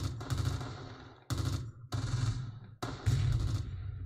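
Gunfire in the World War II game Close Combat near Caen, with four loud bursts of machine-gun fire, each cut off abruptly by a short silence.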